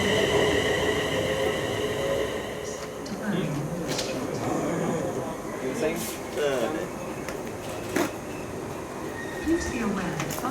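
A train passes through Smethwick Galton Bridge station, a steady loud rumble of wheels and rail noise with brief squeals and clanks throughout, under station ambience with some voices.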